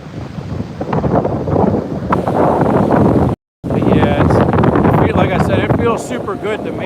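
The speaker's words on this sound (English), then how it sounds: "Yeah, it's definitely windy." Gusty wind buffets the microphone with low rumbling noise during an outdoor walk in the Philippines, mixed with talking; a brief dropout cuts the sound partway through.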